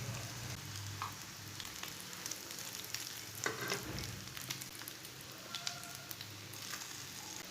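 Bread slices frying in a pan, a steady, soft sizzle and crackle of oil holding throughout, with a few faint stirs and taps, quiet and close, no voices.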